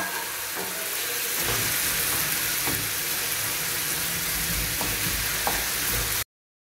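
Ground beef frying and being stirred in a pan for meat empanada filling, a steady loud sizzle with occasional scraping stirs, close up and without talk.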